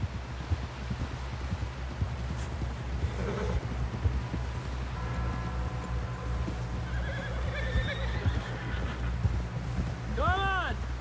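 In the video game Red Dead Redemption 2, a horse's hooves beat a rhythmic clip-clop on the ground, with a sharp neigh near the end and character voices talking underneath.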